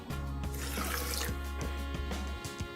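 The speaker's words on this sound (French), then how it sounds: "je rajoute cette quantité de l'eau" Water pours steadily into a pot of rice and beans, a continuous close splashing that fills the clip.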